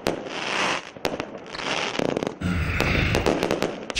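Fireworks at a nighttime celebration burst in a rapid series of sharp cracks and booming pops, loud and close, with crackling between the blasts and no voices.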